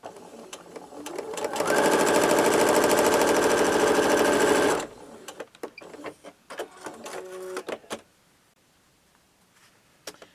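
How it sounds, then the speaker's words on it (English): Sewing machine stitching quilt pieces along a marked line runs in a steady, loud whirring burst for a few seconds, then stops, followed by scattered light clicks and handling sounds close by. "you're going to sew right on that line"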